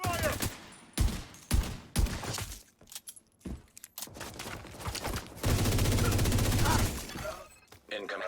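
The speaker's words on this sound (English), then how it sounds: "I'm taking fire!" Gunfire in the video game The Division 2: several sharp shots in quick succession, then a dense, sustained burst of automatic fire, loud and close amid other game sounds.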